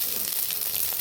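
Cumin seeds sizzle steadily in hot oil in a pan while brinjal and peas curry is being started, a continuous bright hiss with small crackles, close and fairly loud, with no voice over it.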